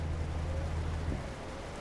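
Heavy rain in Euro Truck Simulator 2, a dense steady hiss of falling water over a low rumbling truck engine drone, continuous and fairly close.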